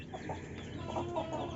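Backyard hens clucking, one a neighbour's bird, in a short run of soft, close calls over low farmyard background noise; no one talks.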